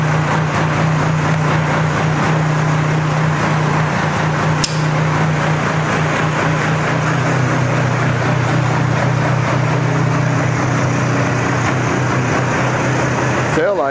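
Polaris 400cc two-stroke ATV engine idling steadily and loudly up close, a constant buzzing drone with a slight wavering, talk faint beneath it.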